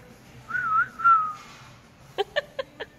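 A person whistles a short sliding melody, then four quick, sharp whistled notes in a row; close and clear with no talking.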